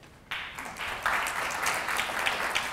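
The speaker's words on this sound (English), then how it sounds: "let's give them a round of applause as well" Audience applause for public safety officials at a press conference, starting abruptly after a brief quiet moment and continuing as steady, moderately loud clapping from a room full of people.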